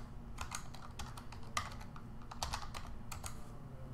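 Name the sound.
typing username and password on computer keyboard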